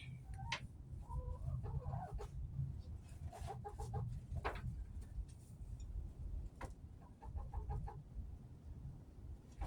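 Chickens cluck softly in scattered short bursts near a cinderblock project, the calls rising over a steady low rumbling background.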